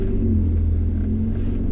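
A 2020 Lotus Evora GT in sport mode with its exhaust set loud gives a deep, steady, close exhaust rumble, a constant low drone with no talk over it.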